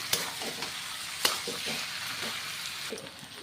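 Boiled jackfruit coated in spices is stir-fried with fried onions, giving a steady close sizzle broken by sharp scraping clicks of a spatula against the pan.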